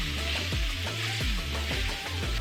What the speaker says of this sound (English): I'm going to go ahead and brown our ground beef just the same way I would normal taco meat.